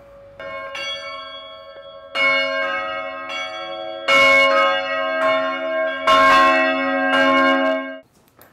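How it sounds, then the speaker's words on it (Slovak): A full set of church bells at Hniezdne, Slovakia, rung together: layered, overlapping clangs building in irregular bursts, loud and close, sustaining a rich metallic hum before stopping abruptly. "Ak máte záujem, môžem rozzvoniť aj všetky zvony."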